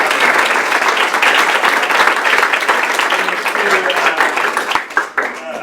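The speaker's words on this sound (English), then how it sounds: "Can we give him a round of applause?" A crowd at a community panel discussion applauds a brewery for providing the beer, with loud, dense clapping that stays steady before tapering slightly near the end.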